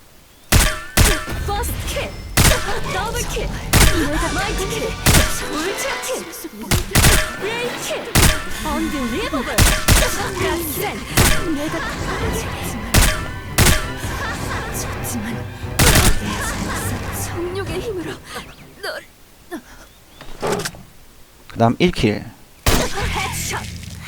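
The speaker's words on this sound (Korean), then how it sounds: "그 다음 킬 사운드는 들어보도록 하겠습니다" Kriss submachine gun fire in the Sudden Attack shooter game: sharp, loud bursts and single shots ring out through a busy stretch, mixed with game kill-announcement sounds and voices.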